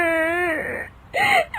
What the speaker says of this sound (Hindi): तभी उसकी दादी सास को रोने की आवाज आती है